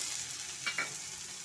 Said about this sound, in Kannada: ಕಡಲೆಬೇಳೆ ಸೇರಿಸ್ತಾ ಇದ್ದೀನಿ ಸ್ವಲ್ಪ ಇದನ್ನು ಫ್ರೈ ಮಾಡ್ಕೊಳ್ಳೋಣ